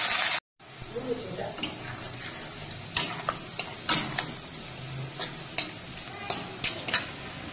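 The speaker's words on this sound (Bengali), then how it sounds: "পেঁয়াজ ভাজা হয়ে গেছে" Onions sizzle steadily in hot mustard oil, with a spatula tapping and scraping the pan every second or so.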